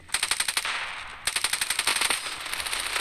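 Rapid bursts of automatic gunfire in the video game Standoff 2 crackle in quick rhythmic volleys, pausing briefly before another sustained stream of shots.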